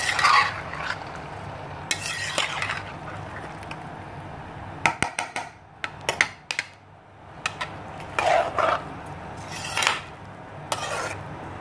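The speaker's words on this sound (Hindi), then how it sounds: "मिक्स करेंगे इसको अच्छे से।" Mutton being stirred in a cooking pot for torian mutton, with a spoon scraping and clinking against the pot in irregular bursts alongside a soft sizzle, close and moderately loud.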